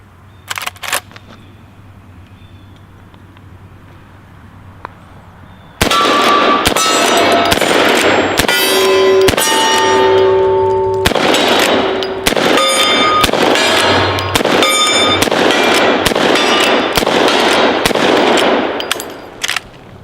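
Gunshots from a Marlin 1894 lever-action rifle, a series of loud, sharp reports starting after a quiet lead-in and continuing in an irregular volley, with ringing echoes between shots.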